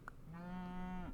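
A single short cow moo from the Super Auto Pets video game, a clear rising-then-falling bovine call preceded by a tiny blip, quiet and alone.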